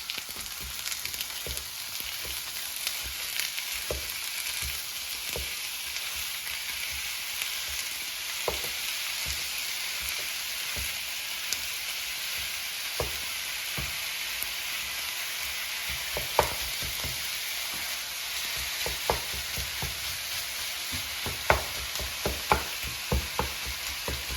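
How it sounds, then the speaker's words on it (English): Ground turkey and onions sizzle and fry steadily in a pan, with a continuous close hiss broken by scattered scraping and tapping as the mixture is broken up and stirred. "So now let's break up the turkey and mix with the onions."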